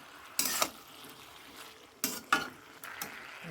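Leafy shak greens being stirred in a frying pan, with a few distinct scraping, clattering strokes of a spatula against the pan over a soft, steady sizzle, close and fairly loud.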